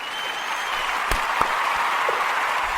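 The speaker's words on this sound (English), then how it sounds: "I like if we have a clapping thingy" A canned clapping sound effect dropped into a podcast talk episode, a steady crowd-applause texture with a few sharp thumps and clicks over it.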